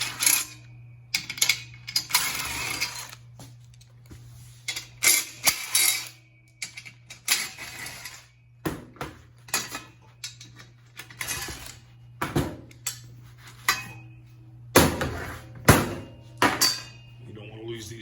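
Removal of 15mm seat bolts from a 1988-98 Chevy extended cab truck: sharp metallic ratchet clicks and clinks in quick irregular bursts over a low steady hum, close up, with someone talking in between.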